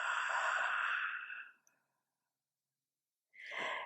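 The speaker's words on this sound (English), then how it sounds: "Full breath out." A long, soft exhale through the mouth during a slow yoga practice fades into silence, then a second breath begins near the end, intimate and close with no other sound.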